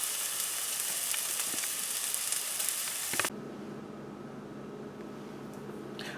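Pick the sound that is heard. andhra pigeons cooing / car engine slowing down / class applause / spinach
spinach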